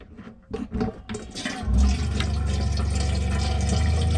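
A few knocks and clunks, then water gushes steadily from a kitchen tap on a narrowboat, running continuously without a break.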